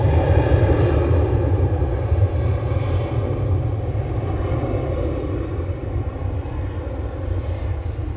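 A passing airplane at Manchester Airport, a loud steady broadband jet roar that holds constant and close for the whole stretch, with no voices over it.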